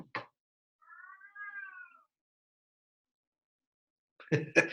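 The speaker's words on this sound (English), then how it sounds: "That's my cat." A domestic cat gives a drawn-out, wavering meow in the background, fairly faint, between brief bursts of someone talking nearby.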